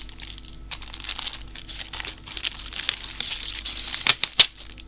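A plastic shopping bag stuffed full of items crinkles and rustles in irregular handling bursts, close and clear, ending with a few sharper crackles.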